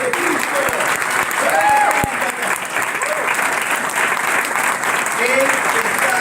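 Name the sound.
applause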